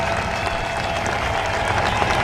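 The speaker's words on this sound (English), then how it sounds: "round of applause for Matt Field and Jhonnattan Castro throwing the horns." A trackside crowd at a Formula Drift round in Orlando claps and cheers loudly and continuously, a dense wash of applause with some voices mixed in.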